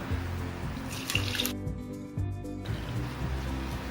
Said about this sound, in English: Here I have a colander lined with the cheesecloth. I'm going to add this mixture.